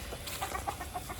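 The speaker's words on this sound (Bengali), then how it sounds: "এটা হচ্ছে হান্না কাকির মোরগ" A fighting rooster kept at a neighbourhood hangout clucks in a few short, close bursts over a steady background hum of outdoor ambience.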